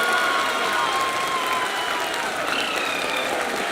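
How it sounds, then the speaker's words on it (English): A crowd at ISRO's Chandrayaan-3 lunar landing broadcast breaks into steady, dense applause with a cheering murmur and a few thin whistling tones over the clapping. "People are applauding."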